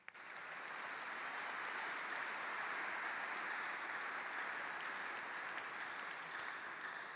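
A church congregation applauding together during a worship service, a sustained wash of clapping from many hands that rises quickly and holds steady at a moderate, somewhat distant level for several seconds.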